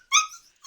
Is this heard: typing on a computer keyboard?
no